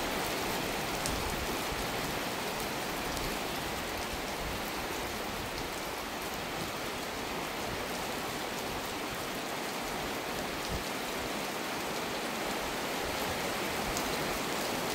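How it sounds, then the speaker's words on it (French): Steady heavy rain with gusting wind outdoors near Grenoble during a thunderstorm, a constant dense hiss of drops from start to finish with no voices. "Ah la pluie, ah le vent."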